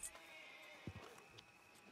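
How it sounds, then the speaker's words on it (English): A horse neighs in a zombie-themed video game, a short whinny standing out over a steady ambient background with faint clip-clop hints. "Ooh, what a nice horse you got there."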